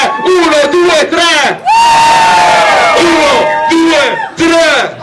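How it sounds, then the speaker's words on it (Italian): A live concert crowd at a hip-hop show in Villa Rosa, Teramo, shouts and yells loudly in response to a count of three, with an MC's amplified voice calling out between the roars. "voglio sentire un urlo al mio tre"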